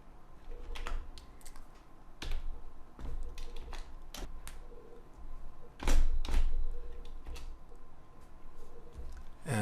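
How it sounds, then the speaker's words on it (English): Someone types an HTML div tag on a computer keyboard while working in Dreamweaver. Close, uneven keystrokes click and tap in short clusters, with a couple of heavier key thumps, and no talking. "So right before the video code, I type in a div start tag."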